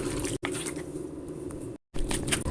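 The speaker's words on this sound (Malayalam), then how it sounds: "നന്നായിട്ട് ഇങ്ങനെ മിക്സ് ചെയ്യാം" Marinated chicken for chicken chukka is squished and mixed by hand, giving wet, sticky squelching sounds that run steadily, broken by two brief silences.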